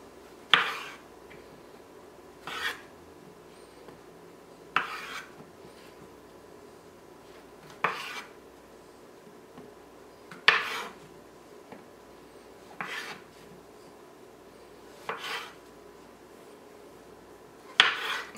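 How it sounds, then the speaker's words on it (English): A knife chops mushrooms into quarters on a cutting board, with about eight separate quiet cuts spaced roughly two to three seconds apart. "So you just want to cut these up."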